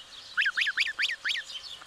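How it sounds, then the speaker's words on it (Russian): Five quick, nasal goose honks in a short rapid series, fairly close, with quiet surroundings and no talking. "Вот уж и гуси такие. Подросли гусята."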